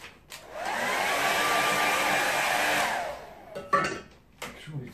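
A hair dryer blows steadily on wet watercolour paint for about three seconds, a loud close whoosh with a faint whine, then cuts off, followed by a few quiet handling knocks.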